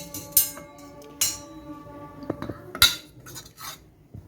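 Cooked ivy gourd is mashed in a pan with a metal utensil, making sharp scraping clinks and knocks at irregular intervals, close and fairly loud against a quiet background.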